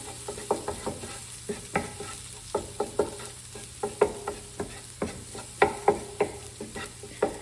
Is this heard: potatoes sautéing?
yes